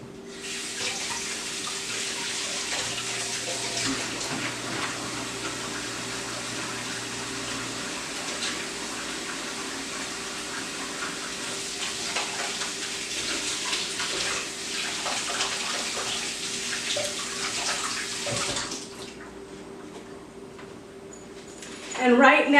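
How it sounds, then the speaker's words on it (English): Water runs steadily from a kitchen tap while hands are washed, a continuous close splashing rush that stops near the end, with speech faintly underneath. "Let me wash my hands."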